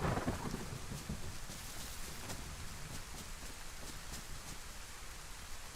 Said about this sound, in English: I hope that was like the residual thunder noise.